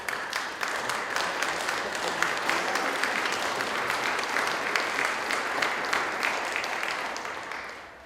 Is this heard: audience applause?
yes